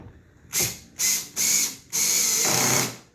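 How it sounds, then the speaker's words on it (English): A cordless drill with its clutch set light drives screws while installing a LinQ mount on a Sea-Doo Spark, whirring in four bursts, three short pulses and then a longer run, close by. "I'm using a drill"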